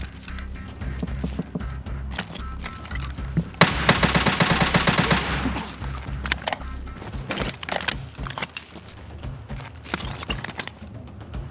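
Dense bursts of video game gunfire erupt midway through a solo survival match, a loud rapid volley of shots that fades into scattered, quieter in-game noises.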